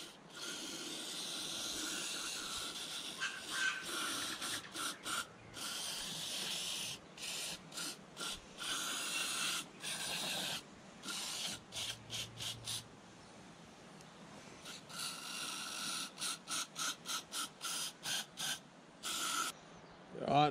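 CRC spray cleaner is sprayed in a rapid run of short, sharp hissing bursts, close up, as a fuel cart is cleaned, with brief gaps between the sprays and no talk.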